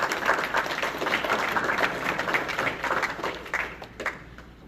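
Audience applause at a championship media day for an arena football team, a moderate crowd clapping steadily from a little distance, fading somewhat near the end.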